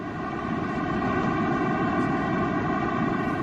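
A sonification of the cosmic microwave background, the sound of the universe's birth, plays as a loud, continuous drone with steady layered tones over a broad rushing roar, unchanging throughout and without voices.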